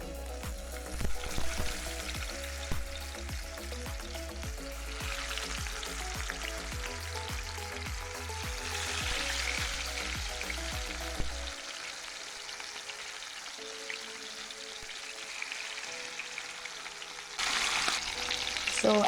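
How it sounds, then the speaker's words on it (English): Fish sizzles and fries steadily in a pot over a high flame for Jamaican escovitch fish, a dense continuous crackle with occasional spattering pops, close and fairly loud, with no talking. "So I am frying my fish on a high flame."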